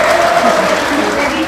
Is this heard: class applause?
yes